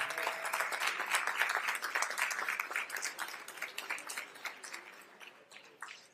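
Scattered clapping at a Livingstone College fall convocation, fairly faint and distant, swelling briefly and then thinning into a few last claps.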